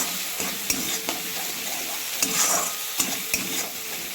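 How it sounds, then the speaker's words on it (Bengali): Masala with turmeric, salt and chopped coriander leaves is stir-fried in a pan for a fish curry, giving a loud, close sizzle with rhythmic scraping and knocks of a spatula every half second or so. "মশলাটা ভালো করে কষে নেব।"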